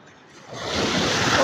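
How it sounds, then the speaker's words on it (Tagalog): Strong sea waves off Bolinao surge in from near silence, building into a loud, broad rush of surf and sloshing water with wind buffeting the microphone. "Grabe talaga yung alon."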